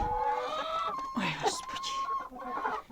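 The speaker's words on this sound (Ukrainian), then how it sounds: "Кажуть, легорни дикі кури" Leghorn chickens cluck close by with a rooster's call in the mix, a busy farmyard chatter of short clucks and squawks.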